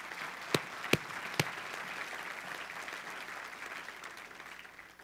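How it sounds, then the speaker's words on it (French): Church congregation applauding the Lord during a French-language service, a steady wash of clapping with a few sharp louder claps early on, fading slightly toward the end. "Une main d'acclamation au Seigneur,"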